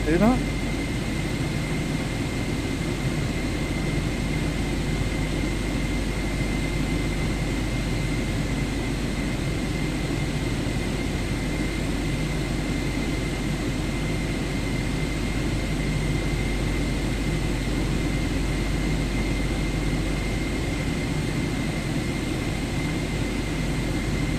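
Steady aircraft engine drone from a plane taxiing in Microsoft Flight Simulator 2024, a constant hum with a sustained high whine, running evenly for the whole stretch with no pauses.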